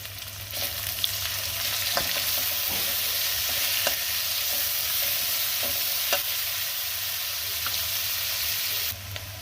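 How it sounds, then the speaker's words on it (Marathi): Garlic and onion sauté in hot oil with a constant, close sizzle, punctuated by occasional spatula taps and scrapes against the pan throughout, and no talking. "मला लसूण छान तेलावर परतून घ्यायचं आता यामध्ये मी कांदा घातलाय"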